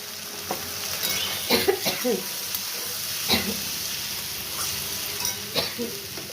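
Potatoes frying with turmeric and mustard paste, a steady sizzle under intermittent scraping and clinking of a spoon stirring in the pan, close by.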